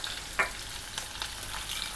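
Curry leaves crackle in hot coconut oil as a constant close sizzle, with a sharp spit near the start and light popping throughout. No one speaks.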